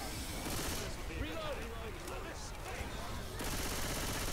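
Continuous rapid gunfire rattles on through a custom map in a video game, dense and steady throughout, with excited voices talking over the shooting.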